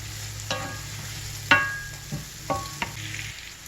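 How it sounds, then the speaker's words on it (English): A spoon stirs squash and jalapenos in a pan, with a few distinct scraping clinks against the pan over a faint sizzle of frying. No one speaks. "Give this a stir"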